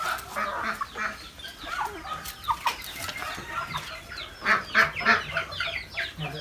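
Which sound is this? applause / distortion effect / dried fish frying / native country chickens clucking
native country chickens clucking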